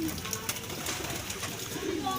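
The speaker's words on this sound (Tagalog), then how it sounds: "Nasa loob na yung dalawa mga kalapatids." Pigeons cooing softly inside a loft amid a busy, noisy background with faint voices nearby.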